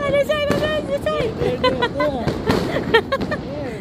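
New Year fireworks explode outdoors at night, a run of sharp bangs and crackling bursts of varied loudness, with people talking and exclaiming throughout.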